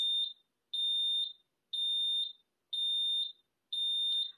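A household smoke alarm chirps in five evenly spaced bursts, each a sharp high double beep roughly a second apart, loud and alone.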